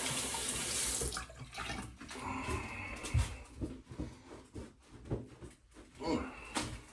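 Water running from a tap as hands are rinsed clean of slick soap at a sink, a broadband wash fluctuating through the clip with stronger bursts and a brief louder splash near the middle.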